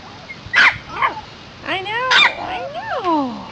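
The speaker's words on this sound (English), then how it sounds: "Puppies, puppies." Havachon puppies let out a quick string of high yips, barks and whimpers, close and lively, while a person's voice speaks among them.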